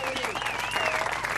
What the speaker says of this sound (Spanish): Como es la señora Adriana Salgueiro, la aplaudimos.